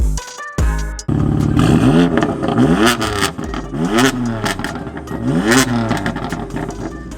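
A BMW F82 M4 sports car engine, tuned to about 600 hp, revs hard several times in rhythmic bursts, rising and falling with a raspy roar, loud and close.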